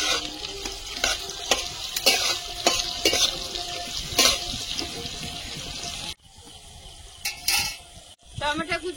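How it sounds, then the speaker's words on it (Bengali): Chopped onion hits a pan of fried ginger and garlic and sizzles loudly while a spoon stirs and scrapes repeatedly, close up, before the sizzle softens near the end. "আদা রসুনটা ভালোভাবে ভেজে নিয়েছি। এখন পেঁয়াজ কুচি দিয়ে দেবো"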